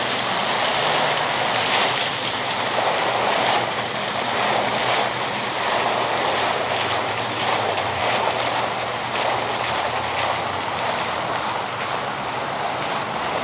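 Fountains in Murfree Springs Wetland sprinkle water, making a steady, broad hiss of falling spray that stays loud and even throughout with no pauses.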